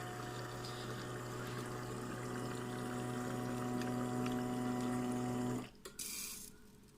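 An Arçelik twin-chamber coffee machine runs its pump, making a steady droning hum with a tonal whine while water moves through it for several seconds, then cuts off abruptly and is followed by a brief hiss.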